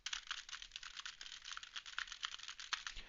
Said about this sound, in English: I'm going to type on a keyboard